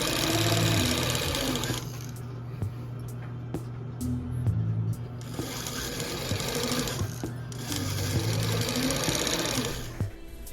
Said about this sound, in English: I pinned everything together and sewed it